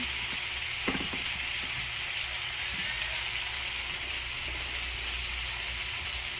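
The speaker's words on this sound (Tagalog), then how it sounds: "Gisa-gisa lang, bali adobong takway ang gagawin ko." Taro stalks (takway) for adobo sauté in a pan with a constant, close hiss of sizzling oil, broken by a few soft clicks of stirring.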